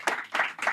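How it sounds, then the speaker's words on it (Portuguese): Audience applause for someone speaker at a talk, breaking out in a few quick swells of clapping across a short burst, fairly close and lively. "Palmas pra essa mulher, gente."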